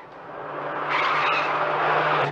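A car in a 1975 film scene moves off with a tire skid that swells louder at about one second, then holds steady and cuts off near the end, with no talk over it.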